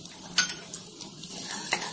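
Urad dal and dried chilies fry in hot oil with a continuous bright hiss, mixed with a few quick scrapes and clinks of a spoon stirring in the pan.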